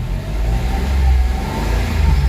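A Mitsubishi Mirage engine with throttle delay and low power revs up as the accelerator is pressed, a steady loud mid-pitched drone rising and holding across the whole stretch with no talking.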